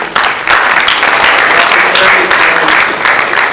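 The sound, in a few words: audience applause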